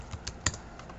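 A few soft, quick keystrokes tap on a computer keyboard, close and quiet with one slightly sharper click in the middle.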